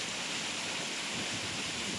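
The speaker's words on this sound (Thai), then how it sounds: "น้ำตกอีกเส้นหนึ่งนะครับเนี่ยลงมาที่นี่แล้วก็มา ประจบกันที่นี่" Waterfall at Ban Phonokhi, a steady dense rush of falling water that fills the whole clip at an even, moderate level with no voices.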